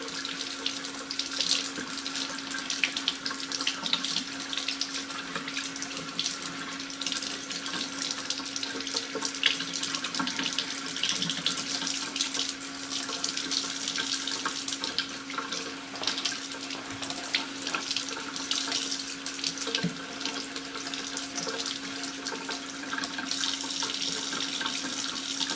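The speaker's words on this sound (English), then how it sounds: "I'm going to come back over here to cool water," Cool tap water runs steadily into a sink while a makeup brush is rinsed under it, a continuous close hiss and splash that holds for the whole stretch with slight shifts in texture and no talking.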